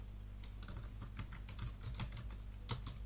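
Keys on a computer keyboard are tapped at close range in quick, irregular clusters of soft clicks, with a quiet hum in the background.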